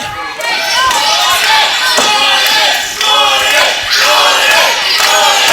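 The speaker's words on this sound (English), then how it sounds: "Crowd wants Gordon." A loud professional wrestling arena crowd roars and chants continuously, with surging waves of cheering and occasional thuds underneath.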